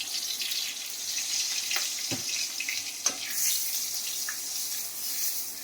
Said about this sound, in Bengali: দিয়ে এটাকে ভালো করে ভেজে নিই।